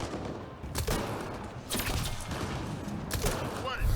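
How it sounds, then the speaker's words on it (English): Angara enemies open fire in a Mass Effect Andromeda firefight, with several loud bursts of gunfire cutting through a busy game soundscape, broken by sharp cracks and thumps. "Oh, Angara shooting us."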